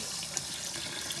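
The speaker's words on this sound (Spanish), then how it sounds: "Agrego agua" Steady rush of water poured into a cooking pot over a wood fire for chicken stew, continuous and close for about a second with no talking.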